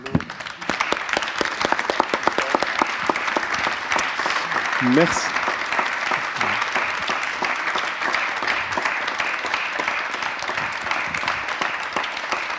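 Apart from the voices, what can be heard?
audience applause after a talk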